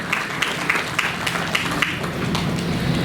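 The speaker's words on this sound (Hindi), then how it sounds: "आपके लिए भी जोरदार तालियां" Audience applause at a World Music Day ceremony: a steady, moderately loud wash of many hands clapping together, sustained evenly from start to finish with occasional sharper claps standing out.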